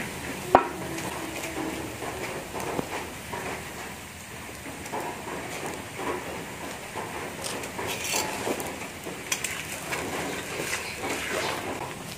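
Fish frying in a pan on a bed of banana leaves, a steady sizzle with occasional stirring and clinks of utensils against the pan, close and continuous with no talking.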